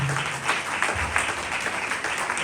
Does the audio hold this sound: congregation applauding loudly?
yes